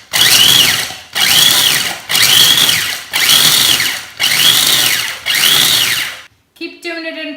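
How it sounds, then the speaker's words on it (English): A food processor pulses cake ingredients into an edible sand texture, giving six loud, evenly spaced whirring bursts with brief gaps between them, followed by a short voice at the end. "keep doing it in pulses until you get the consistency of sand"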